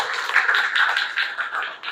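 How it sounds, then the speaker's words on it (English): A small group claps in a steady patter of applause, fairly close, with no talking. "Please give a big round of applause to both of them"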